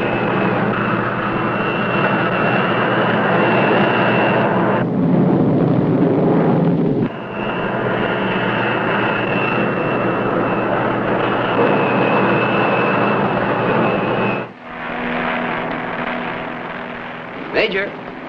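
A jet-powered X-plane test aircraft in the California desert roars loudly and continuously, with wind buffeting the microphone and the engine tone dipping briefly twice before surging again.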